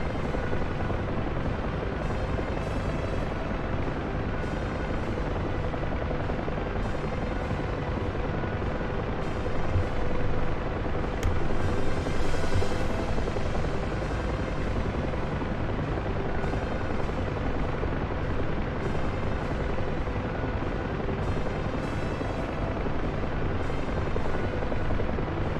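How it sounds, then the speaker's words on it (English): A helicopter flies in the DCS combat flight simulator, its rotor and turbine roaring steadily and loudly throughout, a constant dense drone with no voices. "if I can land without breaking the helicopter"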